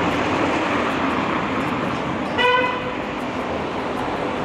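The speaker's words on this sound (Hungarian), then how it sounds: "És dudál, hogy vigyázz, mert ő jön." A car horn sounds one short toot at a narrow street intersection in Seville, Spain, rising briefly above steady street noise.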